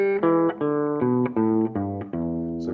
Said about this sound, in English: If you did the bare blues scale, it would sound something like this.